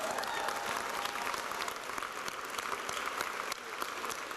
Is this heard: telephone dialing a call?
no